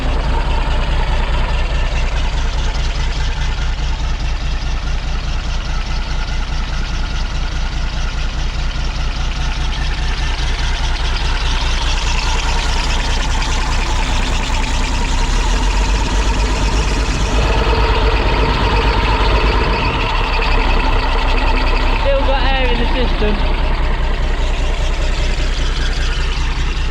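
A diesel engine idles steadily nearby, a constant low rumble that holds throughout with a few faint rattles and clicks.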